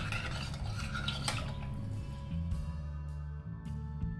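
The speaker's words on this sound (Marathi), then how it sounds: "थोडंसं हलवून घेऊया" A spoon scrapes and stirs a mixture of hing, oil and salt in a metal vessel, a soft continuous rubbing with faint clinks, under a steady low hum.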